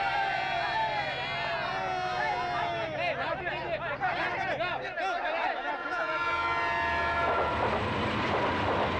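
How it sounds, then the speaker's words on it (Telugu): Train sounds at a railway station before departure, with a horn-like tone and rumbling carriage noise under a dense wash of voices. "5 నిమిషాల్లో ట్రైన్ కదలబోతోంది."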